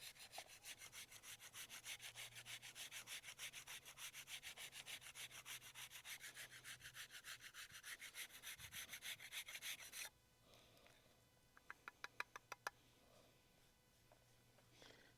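Fatwood dragged back and forth across a grater, a steady close rasping scrape in quick repeated strokes for about ten seconds, then fainter scratching with a few sharp ticks.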